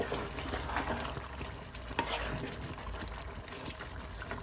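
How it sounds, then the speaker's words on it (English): A pot of Fiji-style lamb shank palau made with parboiled rice is stirred, with a spoon scraping across the bottom. The stirring makes soft, continuous scraping and a gentle sizzle. "give it a quick stir, and just pick up anything from the bottom"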